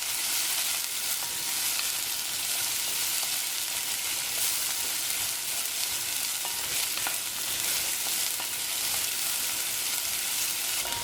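Onion, carrot and beans fry in a pan for vermicelli upma, giving a steady, dense sizzle that stays even throughout with faint stirring scrapes and no voices.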